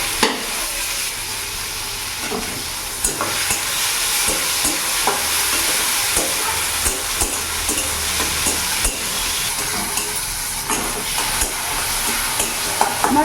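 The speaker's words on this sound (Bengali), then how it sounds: "আমার পেঁয়াজ টমেটোটা কিছুক্ষণ আমি ভেজে নিয়েছি" Chopped onion and tomato sizzle steadily in a pan over medium gas while a spoon stirs and scrapes with repeated clicks, close and continuous with no talk.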